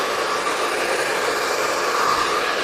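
A hair dryer blows continuously at close range as hair is styled with a round brush, a steady loud whooshing drone with no break.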